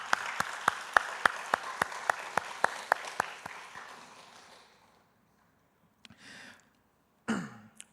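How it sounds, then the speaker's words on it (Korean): Congregation claps for the children during a Sunday evening church service, with regular rhythmic claps over a softer crowd that fades out, followed by a quiet pause, a cough and a throat clearing. "우리 아이들에게 박수 한번 쳐줄까요?"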